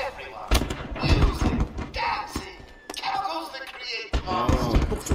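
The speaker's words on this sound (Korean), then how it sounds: "아, 폭죽 존나 비싼 폭죽이네." Fireworks burst in the video game Batman: Arkham Asylum, a series of sharp, loud explosive bangs and crackles at irregular intervals, with game voices and effects mixed in.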